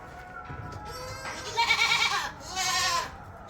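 Dwarf goats in a pen in Antalya bleat close by, two loud wavering calls in quick succession after a quieter start, with no talk over them.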